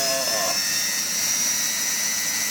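A washing machine drum spins at high speed toward 1300 RPM, a loud, steady close-up whirring whine with a brief rising tone at the start.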